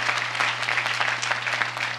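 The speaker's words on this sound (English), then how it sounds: "a big round of applause to political courage in Washington" An audience breaking into a round of applause at a mayor's groundbreaking event in San Francisco, dense and sustained clapping from a crowd, fairly close, with no voices over it.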